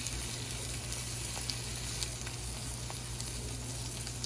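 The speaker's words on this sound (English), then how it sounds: "we're going to go ahead and flip this egg one more time just for browning purposes to get it nice and brown" An egg fries in a pan with a steady, even sizzle that runs throughout, with faint occasional pops and no one speaking.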